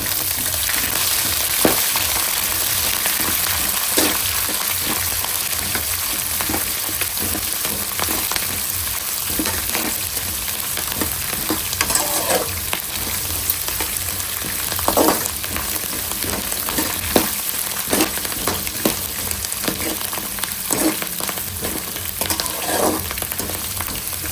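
Green chillies fry in a pan for mango chitranna, producing a loud, dense, continuous sizzle with frequent utensil scrapes and taps of stirring throughout.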